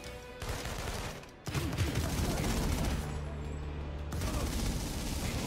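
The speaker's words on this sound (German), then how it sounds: "Alter, was der da an 3000 Schuss in der Minute raushaut." A minigun in the video game inFamous Second Son fires in long, dense bursts, a loud continuous rattling barrage with brief breaks between volleys.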